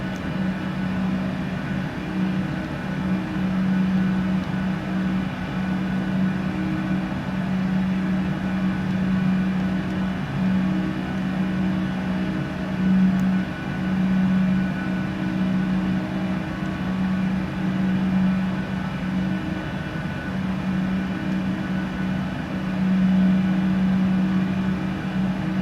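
Rolls-Royce RB211 engines on a Boeing 747-400 in a flight simulator game hum as a steady, continuous drone with a strong low tonal whine, holding level throughout with no talk over it.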